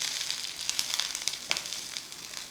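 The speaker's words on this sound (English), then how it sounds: "stir fry this." Shredded onions, big garlic slices and curry leaves stir-fried in a pan, giving a bright, close sizzle with crisp crackles and spatter pops throughout, without any talking.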